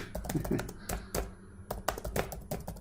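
Someone types on a computer keyboard in quick, uneven bursts of clicky keystrokes with a short pause midway.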